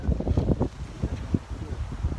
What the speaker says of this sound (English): Yeah, so windy.